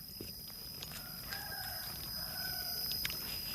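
A rooster crows once at a distance over steady outdoor ambience, and a thin constant whine runs through the background.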